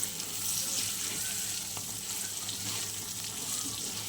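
Chili powder and cumin fry in a pan with a steady, moderately quiet sizzle and soft hiss, continuous and close, with no voices.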